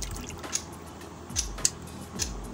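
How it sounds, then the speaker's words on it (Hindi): Water dripping and squishing from a cloth-strained mixture of soaked seeds for a homemade Ramadan sherbet, a few distinct drips and wet squeezes at close range over a quiet background, no talking. "तो इसको छान लेंगे अच्छे से ताकि पानी निकल जाए"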